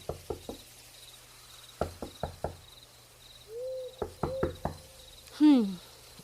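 Several sharp knocks on a door in a Tamil historical radio drama come in quick groups of two or three, close and distinct, with a brief tone and a short voiced sound in between.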